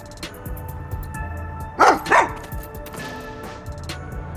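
Sugar, the dog in the Rain Code video game, gives two quick, loud barks close together midway through, set over a quiet game soundscape with faint ticking and background tones.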